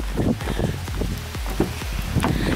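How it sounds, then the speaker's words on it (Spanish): Rain falls steadily outdoors on a street in Spain, a dense continuous patter of drops on surfaces with some wind, close and loud throughout, no talk. "¡Está lloviendo!"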